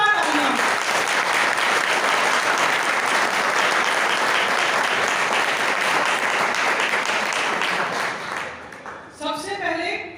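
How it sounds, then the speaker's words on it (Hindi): Loud, sustained applause from a crowd at a public political gathering in Delhi, steady clapping for about nine seconds before it fades and a voice begins over a public address system. "तो सबसे पहले महिला शक्ति के लिए एक जोरदार तालियां।"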